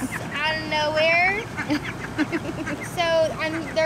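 Ducks quacking near a backyard duck pool, several loud honking calls in bursts close by, with a person talking over and between them.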